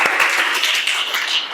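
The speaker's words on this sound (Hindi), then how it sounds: "तालियों के साथ स्वागत करेंगे।" Brief burst of audience applause welcoming a student onto the stage during a school public-speaking class, a bright, even patter of many hands that stays steady and close.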